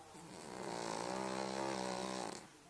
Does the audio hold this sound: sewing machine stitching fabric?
no